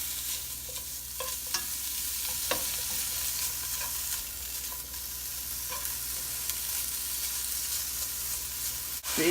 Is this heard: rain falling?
no